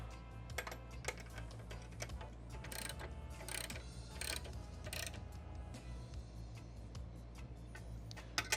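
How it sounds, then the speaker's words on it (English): A ratchet wrench works a bolt on a motorcycle utility bag, giving quiet clusters of sharp clicks and ticks over a low mechanical hum, close by and intermittent. "And our wrench again."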